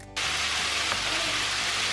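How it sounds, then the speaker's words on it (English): Broccoli, carrots, pineapple, onion and meat hit a hot stir-fry pan and burst into loud, steady sizzling that carries on without a break and with no voices. "it's really frying up all the vegetables and meat"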